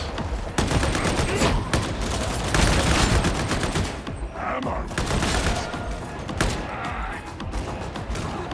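Rapid bursts of automatic gunfire from an autogun in Warhammer 40,000: Darktide, loud and close, with sustained volleys, short pauses and impacts layered over game ambience.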